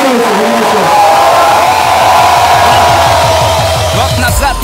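Concert audience at a large stage show cheering, whooping and applauding loudly, a dense continuous roar of crowd noise with rhythmic chanting pulses throughout.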